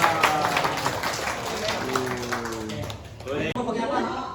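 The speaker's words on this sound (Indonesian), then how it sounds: "Boleh tepuk tangan." A small group claps after a freshly made original mint mojito is presented, light uneven applause mixed with overlapping voices and cheering, briefly dipping before picking up again.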